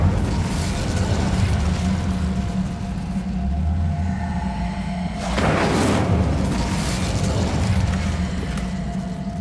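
An Incendio fire spell is cast in the video game Hogwarts Legacy, a loud burst and rumbling whoosh rising midway over a constant low, booming game background.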